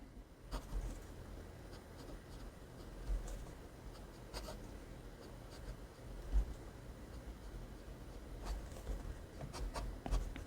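Hongdian A3 fountain pen with an extra fine nib scratching across paper, a soft continuous rubbing with small taps and strokes, close and quiet, no talking.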